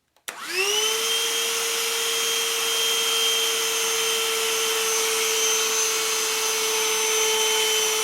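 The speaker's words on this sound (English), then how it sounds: "giving you a listen to the noise or sound that this Black & Decker Dustbuster hand vacuum makes" A Black & Decker Dustbuster Pivot handheld vacuum switches on with a click and spins up to a steady high-pitched whine that holds constantly, close to the listener.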